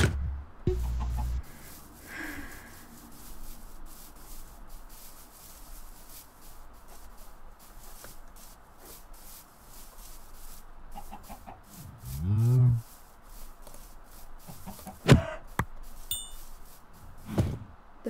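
Chickens cluck in a Minecraft world, scattered short calls at moderate distance over a steady game background, with a few other brief game sounds and no talking.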